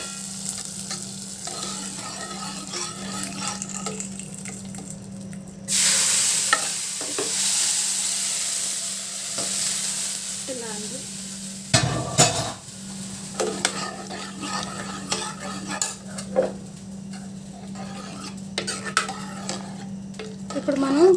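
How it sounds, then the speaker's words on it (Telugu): Tempering being stirred into tomato dal in a pot, a steady sizzle with scraping spoon strokes against the pan and a loud burst of hissing as it hits, continuing with intermittent stirring clinks throughout. "ఈ తాలింపు బాగా ఆ పప్పులోకి బాగా కుక్ అయ్యేటట్టు కుక్ చేసుకున్నామండి."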